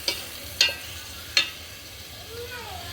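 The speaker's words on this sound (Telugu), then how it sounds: "చికెన్ వేసాను ఫ్రెండ్స్, ఒకసారి తిప్పుకుందాం." Chicken pieces frying in a pan with ginger garlic paste, a steady low sizzle under two sharp scraping stirs close by, then a softer clink near the end.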